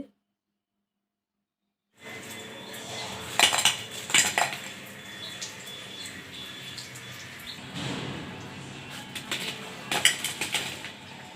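Crispy fried eggplant fritters (beguni) lifted from hot oil and served, heard after two seconds of silence as clinking utensils and dish knocks with a light oily crackle, close and fairly loud.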